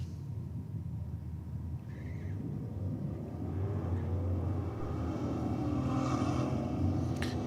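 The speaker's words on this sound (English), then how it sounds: "Commodore taking on the Chrysler this time around." A Holden Commodore and a Chrysler drag racing down the strip produce a low, rumbling engine roar from a distance that builds steadily louder as they accelerate away.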